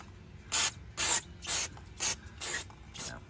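Brake cleaner sprayed onto a rear brake fastener of a 2002 Ford F-250 in six short hissing bursts, about half a second apart, close and fairly loud with no talking.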